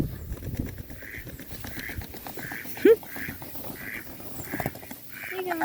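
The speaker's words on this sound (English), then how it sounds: "And so Mal's crying. He's looking for his lady." A duck calls repeatedly on a farm, giving a string of evenly spaced, moderately loud quacks amid faint background noise.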